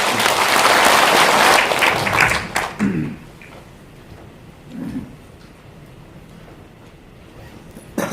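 An audience claps warmly in a National Assembly Library auditorium seminar, with dense applause for about two and a half seconds before it fades, followed by quiet room tone and brief murmurs.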